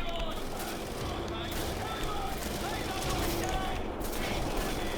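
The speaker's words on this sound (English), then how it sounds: "those guys who are shooting at me are actually kind of a problem" Enemy gunfire in The New Order, a dense continuous rattle of shots mixed with combat noise and talk running throughout.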